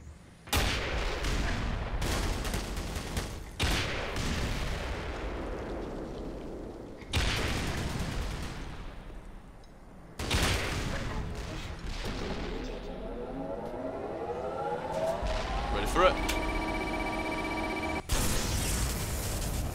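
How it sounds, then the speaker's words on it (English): Rockets fire in Black Mesa, a series of heavy booming launches and blasts separated by short gaps. Each has a loud attack and a rumbling tail, and other game effects sound between the shots. "Am I better off just shooting beyond fucking rockets at the damn thing?"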